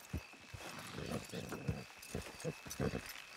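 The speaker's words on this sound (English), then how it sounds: "Horses will pull it clean down." Horses in Red Dead Redemption II stomp and clop in uneven steps while straining to pull, quiet and somewhat distant against a low outdoor background.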